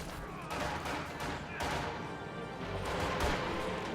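Gunfire from Soviet conscripts in a strategy game battle, ragged bursts of shots and impacts scattered over the clip, moderately loud amid a busy, rumbling battlefield.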